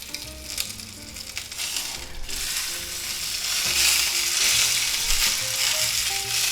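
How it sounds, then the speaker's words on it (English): Eye of round steak sears in a hot cast iron pan, a steady broadband sizzle that swells louder in the second half, with low hum and faint tonal background music underneath and no talking. "Now you can sear it in a cast iron pan, it works really good."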